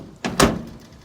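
The door of a Ford COE 4x4 diesel truck shuts once, close by, with a brief latch click followed by a solid, firm thud and a short fading tail.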